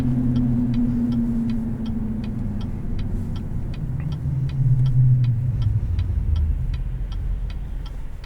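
A 2021 Chevrolet Silverado 1500 LT Trail Boss with a Borla exhaust cruising, a low, mellow engine hum that swells briefly under throttle, accompanied by a steady faint ticking from the cabin.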